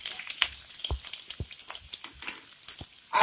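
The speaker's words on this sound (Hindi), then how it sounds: "तेल गरम हो चुका है, उसमें हम कटी हुई लहसुन डालेंगे और इसे चला लेंगे।" Chopped garlic frying in hot oil, sparse crackles and soft sizzling pops with a few sharper stirring knocks, close and fairly quiet, ending in a louder burst.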